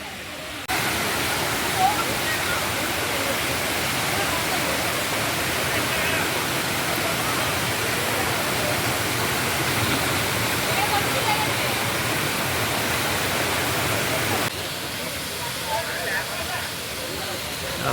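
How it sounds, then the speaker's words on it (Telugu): The N.R. Puram waterfall, where crowds are bathing, gives a steady, loud rushing roar that runs unbroken for most of the recording, with voices faintly mixed in. "మంచి వాటర్ ఫాల్."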